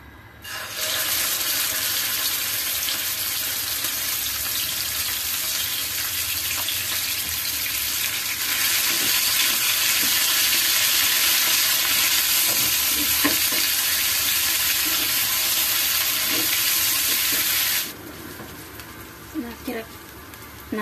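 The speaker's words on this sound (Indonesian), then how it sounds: "Nah sekarang kita oseng bumbunya" Spice paste stir-fried in a pan gives a loud continuous sizzle for most of the time, with scraping stirs over it before the frying cuts off near the end.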